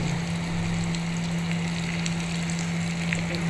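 A spice paste of blended spices, nuts, oil and salt sizzles steadily in hot oil while being sautéed, a continuous dense crackling hiss with a low steady hum underneath.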